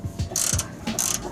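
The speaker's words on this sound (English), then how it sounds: "ratchet or wrench, whatever you can fit in there, and remove these 3 bolts" A ratchet works bumper bolts loose on a Foxbody Mustang, giving two quick bursts of close, sharp metallic clicking with short pauses between them.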